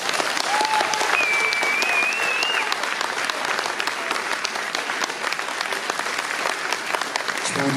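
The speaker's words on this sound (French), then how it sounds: "j'aimerais bien qu'on les applaudisse." A large audience applauds a dance troupe at a Saturday evening show, with dense, steady clapping that stays loud and continuous throughout and a few brief whistle-like tones early on.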